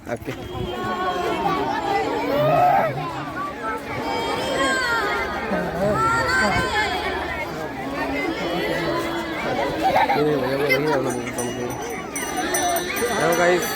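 Dense crowd at an outdoor Makar Sankranti gathering, with many overlapping voices forming a steady, loud babble throughout and nearby voices rising above the general hubbub.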